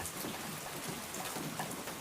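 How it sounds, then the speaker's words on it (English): Rain falls steadily, a soft, even hiss of drops spread across the whole moment, faint and continuous with no voices. "Now, let the rain fall and the story begin."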